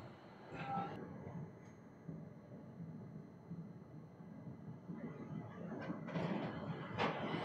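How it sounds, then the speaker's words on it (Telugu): The Visakhapatnam–Machilipatnam Express train departing Samalkot Junction, a low rumbling of rolling railcars with rising clatter and rattling as it gathers speed, heard from on board with faint voices. "మన ట్రైన్ అయితే సామర్లకోట జంక్షన్ నుంచి స్టార్ట్ అయిపోయింది 151కి."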